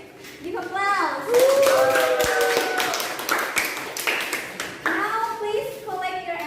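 Students in a classroom clap together in short bursts of applause, mixed with children's voices and cheering that rise and fall across several seconds.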